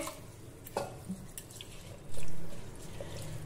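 Toor dal is rinsed with water inside a pressure cooker, with soft drips, light splashes and one fuller sloshing pour, close and fairly quiet.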